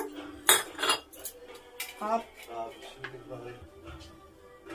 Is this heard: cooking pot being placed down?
yes